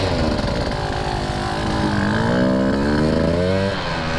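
A Husqvarna TE150 two-stroke dirt bike engine runs steadily and loud throughout, its pitch climbing and dipping as the rider works the throttle nearby.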